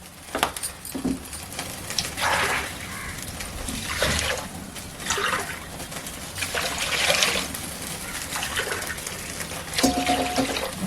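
Water poured from a quarter-kilo glass into a pan while making sugar syrup for milk gulab jamun in a home kitchen, a steady splashing trickle with brief pauses, close and moderately loud, no talking.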